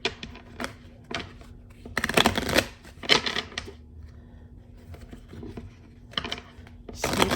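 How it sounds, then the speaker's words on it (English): Tarot deck being shuffled by hand in bursts of crisp riffling and card slaps, with quiet pauses between handfuls, close and fairly loud. "let me shuffle this"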